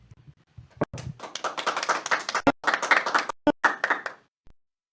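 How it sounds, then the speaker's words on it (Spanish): Applause greeting a speaker as she is welcomed at a Catholic faith gathering: a burst of hand clapping from a small group, close and fairly loud, rising quickly and then trailing off into scattered claps before fading to silence. "la vamos a recibir con un fuerte aplauso"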